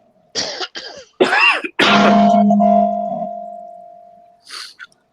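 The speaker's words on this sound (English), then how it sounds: "You've been coughing a little bit tonight." A few sharp coughs close by, followed by a throat-clearing rasp and a low lingering hum, then a short breathy sound at the end.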